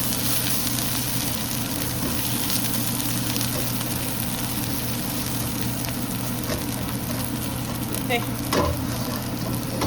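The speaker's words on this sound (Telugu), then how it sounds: "పచ్చి వాసన పోయే వరకు వేయించుకోవాలి దాన్ని." Mushrooms frying in a pan for a pepper fry, a dense, continuous close sizzle and crackle holding steady throughout, with a few faint clinks near the end and no talk.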